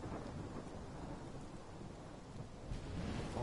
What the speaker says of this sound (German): Oh mein Gott. Der Sturm.